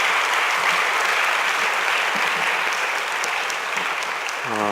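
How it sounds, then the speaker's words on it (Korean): A Korean church congregation gives sustained applause after a sermon, a thick, even roar of many clapping hands that continues steadily and loudly from start to finish. "우리 영광의 박수를 돌려드리겠습니다"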